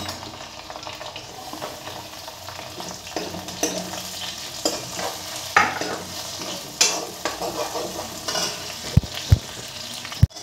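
Chilli stir-fried in a hot pan for homemade chow mein with pork, a continuous sizzle under repeated scraping and tapping of a spatula, sharp clacks growing denser toward the end, with no voices.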